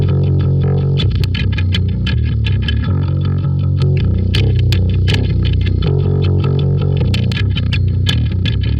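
Electric guitar run through an EQ placed before an overdrive pedal, dialed to a thick bass-like tone; a steady, loud distorted riff with dense repeated picked notes and no pauses, played alone.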